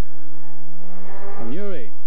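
Ford Escort rally car at the 1989 Carlow Rally, engine droning at steady pitch before a sharp rev rise and fall as it accelerates past close by, loud and alone without any speech.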